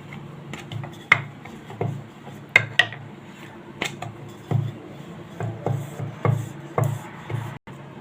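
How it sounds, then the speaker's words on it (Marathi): Maida dough for Punjabi-style samosas is rolled out on a board: a series of soft, irregular knocks and rolling thumps from the pin, close and fairly quiet, with no talking. "इथे पोळी आपण लाटून घ्यायची"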